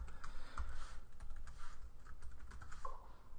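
Quiet, close typing on a computer keyboard, a rapid irregular patter of soft key clicks continuing throughout with no voices.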